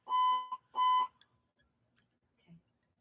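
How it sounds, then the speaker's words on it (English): A fire alarm goes off indoors during a fly-tying session at home, giving two loud, harmonic electronic beeps in quick succession, then falling almost silent. "he's got to listen to this fire alarm"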